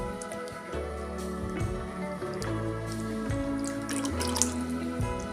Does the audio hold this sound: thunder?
no